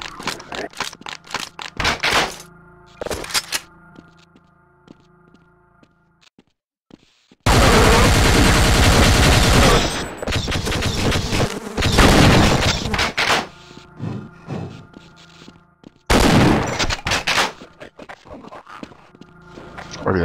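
Gunfire from the video game Half-Life, with sharp bursts of shots in clusters separated by quieter gaps, loud and close, interspersed with short mechanical clicks.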